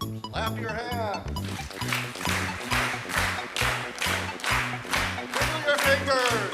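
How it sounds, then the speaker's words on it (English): A congregation at a Sunday service claps hands in rhythm with music, steady regular claps landing on the beat over a tuneful accompaniment. "Clap your hands."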